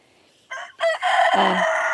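Rooster crows loudly and close, a short call followed by a longer, drawn-out cock-a-doodle-doo that fills the whole moment, alone without talk.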